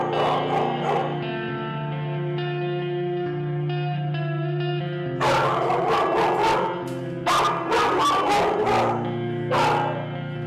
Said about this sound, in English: This is our foster dog